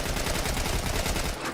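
Dense, continuous gunfire from The Last of Us Part II, a steady loud barrage of rapid shots filling the whole moment with no talking.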